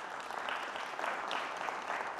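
An audience at a talk on technology for cleaning the air claps together, a soft, distant-sounding patter of many hands sustained for a couple of seconds without speech.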